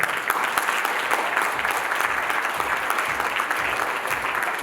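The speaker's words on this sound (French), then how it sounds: "Sous les applaudissements en délire de la foule" Audience at the Miss Mauritius pageant applauding: dense, steady clapping from a large crowd, loud and continuous throughout, with faint voices mixed into the ovation.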